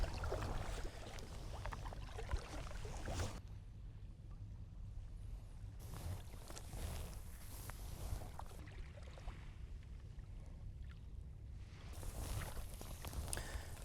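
Kayak paddling along a coastal stretch near Norton Island, with soft rhythmic water swishes and splashes from the paddle strokes under steady broadband wind and water noise, moderately close and fairly even throughout.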